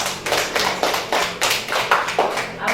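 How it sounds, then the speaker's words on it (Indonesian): A primary school class claps together in quick, evenly spaced rhythmic bursts, about a dozen sharp hand claps, loud and close, with no talking. "Ya, tepuk tangan semuanya."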